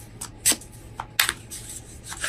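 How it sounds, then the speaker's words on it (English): Tarot cards from an Animal Wise deck being shuffled by hand, with a few sharp riffles and soft papery flicks in quick irregular bursts, close and fairly quiet with no talking. "I'm working right now shuffling the Animal Wise Tarot."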